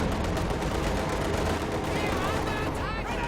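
Dense gunfire from several sides in a Company of Heroes 2 World War II battle, a steady rattle of shots and bursts continuing throughout, loud and close, with no talk over it.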